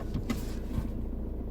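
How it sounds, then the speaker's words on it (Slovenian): The electric seat motor of a Fiat Tipo whirs briefly as the seat is adjusted inside the car, a short close mechanical hum over low cabin rumble. "Naštimat sedež."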